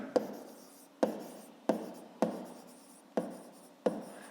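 Pen writing on paper while a Grade 5 maths exercise is worked out, six sharp scratchy strokes about every half second to second, each fading quickly, close and quiet with no talk.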